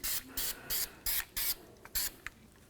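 Copper anti-seize sprayed onto a wheel hub during rear wheel seal work on a 1999-2007 Ford F-250 Super Duty: several short, close hissing bursts in a row, then two quick puffs, no talking.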